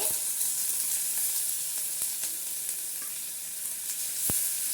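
Chopped onions sizzling in a hot pan for upma, a steady bright frying hiss with occasional stirring scrapes, close and continuous.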